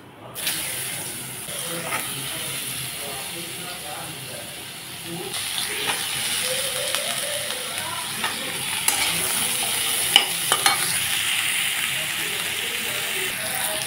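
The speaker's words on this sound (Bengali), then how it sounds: "এখন আমি বেগুন আর আলুগুলো ভেজে নিচ্ছি।" Eggplant and potato pieces frying in oil in a pan, a continuous soft sizzle and hiss with occasional stirring clicks, close and steady with no talk.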